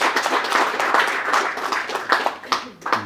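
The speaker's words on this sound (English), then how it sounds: "Give them a round of applause." An audience at a 2020 film-project pitching event claps, a brisk burst of applause that thins into a few scattered claps by the end.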